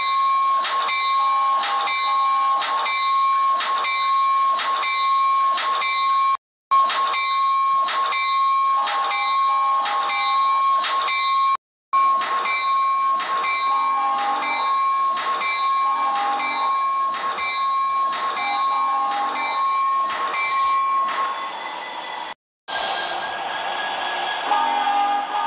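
A BNSF freight train prepares to depart as a locomotive bell clangs in a fast, even rhythm, loud and continuous, with a few brief breaks and a rougher rumble at the end.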